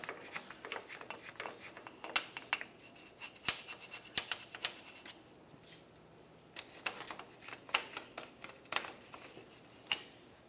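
Scrubbing around the front differential mounting area of a 1994-2002 Dodge Ram 2500 with parts cleaner: steady quiet rubbing and brushing with irregular scraping ticks, close but faint throughout.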